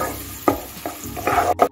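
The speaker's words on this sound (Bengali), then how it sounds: "আমি এখন পেঁয়াজটাকে কিছুক্ষণ ভেজে নিচ্ছি" Chopped onion frying in a pan with ginger and garlic for a vegetable soup, with a soft sizzle under several short stirring scrapes and clatters close by.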